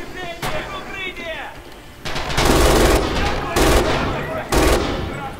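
An MG 42 machine gun in Red Orchestra 2 fires several loud, close bursts of rapid automatic fire after a brief stretch of someone talking.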